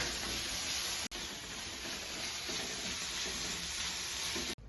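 Onions, ginger-garlic paste and green chilies fry in a pan for chicken masala koyalappam, giving a loud, steady close sizzle with no talk.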